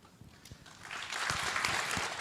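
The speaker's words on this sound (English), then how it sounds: "a louder round of applause for all our panelists" An audience applauding panelists at a charities conference, the clapping starting sparse and swelling into steady, moderately distant applause.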